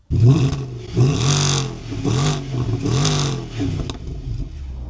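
A Mercedes W212 E63 AMG engine fires up with a loud bark and is revved three times in quick succession, each rise swelling and falling back to a rumbling idle, heard close with no talking.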